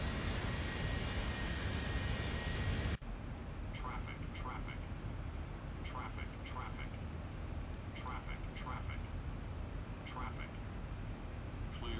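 An AI aircraft's engine drones steadily in a flight simulator game, a constant mid-level hum heard alone after a brief louder wash of noise at the start, with faint repeating chime tones over it.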